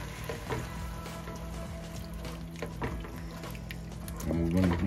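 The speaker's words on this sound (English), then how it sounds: "And you're gonna kind of simmer this a little bit." Plum tomato sauce with canned plum tomatoes simmers on a stovetop, giving a steady low sizzle and bubbling with a faint background hum, swelling a little louder near the end.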